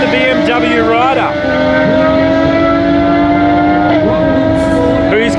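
Motorcycles including a BMW launching side by side at a Perth Motorplex drag racing night, engines revving loud and steady with rising pitch shifts, under a commentator's talk.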